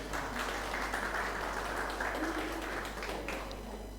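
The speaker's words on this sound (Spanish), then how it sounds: "Ahí está, aplauso." An audience breaks into applause, a steady, moderately loud patter of many hands clapping over a low constant hum.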